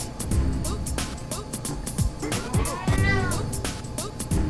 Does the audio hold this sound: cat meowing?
yes